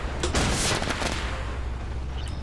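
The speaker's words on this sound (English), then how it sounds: "Oh, he is also shooting missiles at me." Missiles slam into a tank in the tank combat game Armored Warfare, a loud burst of explosive blasts and rattling impacts up front that fades into a lingering low rumble.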